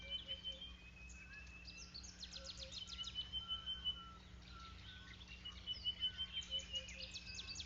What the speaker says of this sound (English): The bird shrieks a warning